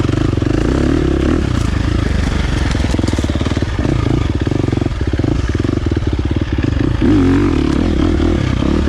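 A 2023 KTM 350 XC-F dirt bike engine runs loud and close in a continuous rough drone, with wind buffeting and slight rises in revs.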